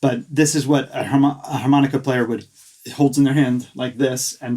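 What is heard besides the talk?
No everyday noises stand out.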